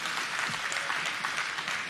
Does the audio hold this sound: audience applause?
yes